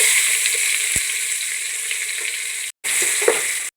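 Whole spices and garlic sizzle steadily in hot oil for a semiya biryani, a continuous bright crackling hiss broken by a brief pause and a stir near the end.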